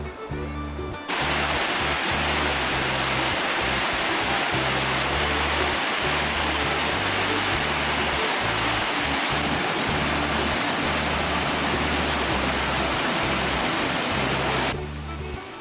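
A waterfall near Ouray, Colorado, pours in a steady, loud broadband roar that fills the scene almost continuously, with a dense rushing wash and low rumble, starting and ending abruptly.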